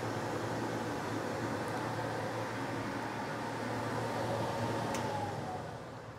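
A laser cutter's blower fan runs as a steady, broadband whoosh with a low hum, constant throughout and easing slightly at the very end.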